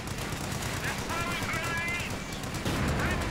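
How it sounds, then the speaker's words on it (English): An anti-tank rifle and a bazooka fire at a Panzer IV in a World War II strategy game, rapid gunfire crackling under dense battle noise while a commentator talks over it. "Anti-tank rifleman actually managed to connect with the Panzer IV."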